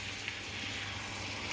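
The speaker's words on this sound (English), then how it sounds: "Listen to that sizzle." Steady, even sizzle of moussaka tomato sauce, crushed tomatoes or passata, frying in a deep wok, a continuous close hiss with no breaks and no voices.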